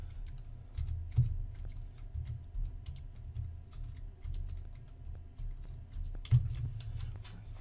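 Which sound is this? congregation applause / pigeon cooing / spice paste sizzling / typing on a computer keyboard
typing on a computer keyboard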